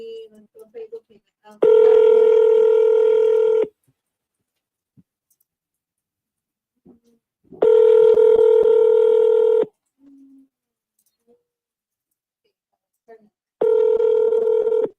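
Outgoing call ringback tones repeat on a telephone line, each long steady tone lasting about two seconds and separated by several seconds of near silence, loud and clear with faint clicks between.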